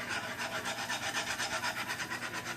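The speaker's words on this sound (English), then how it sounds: "Scraping the bottom, getting that good bacon stuff out of there." Utensil scraping the bottom of a pan of bacon gravy made with well-browned flour, in quick, even back-and-forth strokes that are close and continuous, with nobody talking.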